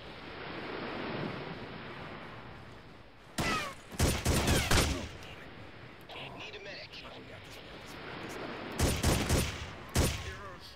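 Gunfire in the Ghost Recon video game: a couple of loud sharp bursts of shots around the four-second mark and again near nine to ten seconds, set against a steady rushing ambient wash.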